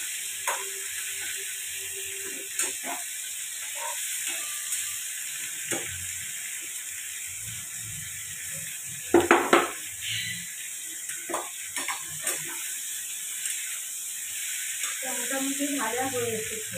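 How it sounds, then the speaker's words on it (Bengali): An egg fries in a hot pan, giving a steady sizzling hiss throughout with occasional scrapes and clinks of stirring and brief bursts of louder spitting. "আমি খুব ভালো করে ডিমটাকে ভেজে নিচ্ছি"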